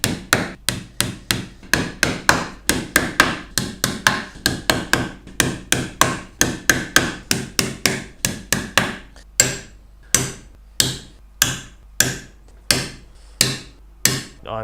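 1.5 inch lost head nails being hammered into top bar hive wood: a long run of loud, close, rapid hammer blows, then slower, evenly spaced strikes, with no talk.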